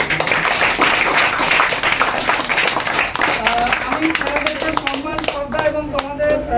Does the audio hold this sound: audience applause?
yes